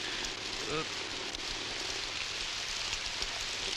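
Steady rain hisses and patters in a 1994 Hindi film street scene set in Bombay, a dense, even wash of sound with a voice faintly over it.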